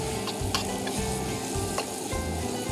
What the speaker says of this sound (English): you can go ahead and brown the steak in your skillet like this